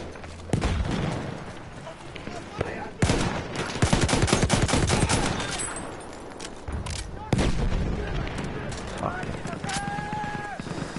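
Gunfire from a PS4 shooter, with one-shot fire-mode weapons heard as dense bursts of sharp cracks that come in clusters and drop out between them, mixed under someone talking.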